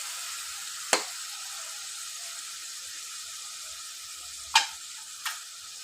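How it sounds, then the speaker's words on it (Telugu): Minced meat (keema) frying in oil over a low flame gives a steady, quiet hiss, broken by three sharp clicks or taps, one near the start and two near the end. "కీమని కొద్దిసేపు ఇట్లా ఆయిల్లో అయితే ఫ్రై చేద్దాం."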